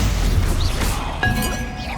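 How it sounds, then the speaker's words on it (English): A pot smashing onto an enemy in Hogwarts Legacy, a dull crashing whack followed by a brief ringing, heard close amid game ambience. "Get smashed with a pot."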